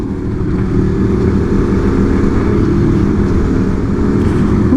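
Motorcycle engines rumble in a loud, close, continuous drone that holds steady throughout, with no distinct separate throttle blips standing out.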